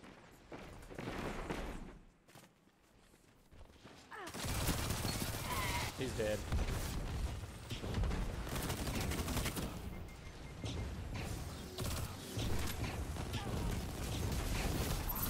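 Dense, continuous barrage of explosions and rapid gunfire from the video game Destiny 2, loud and sustained with a brief quieter gap near the start.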